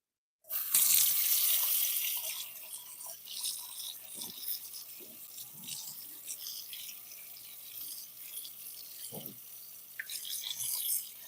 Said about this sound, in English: Let me wash off my hands over here.